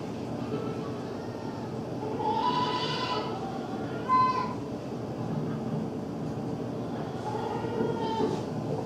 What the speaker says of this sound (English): even just hearing those goats